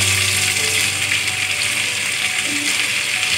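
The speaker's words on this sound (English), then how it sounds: "So now we are adding onions into it." Chopped onions added to hot oil with roasted cumin seeds sizzle steadily and fairly loud, a continuous crackling hiss with no talk over it.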